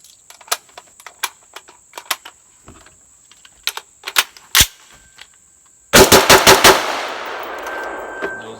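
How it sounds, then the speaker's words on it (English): A real gun fitted with airsoft parts fires a rapid burst of five sharp shots near and loud, after scattered metallic clicks and handling of the action, with the ringing tail fading out. "Gonna fire 5 rounds just to see."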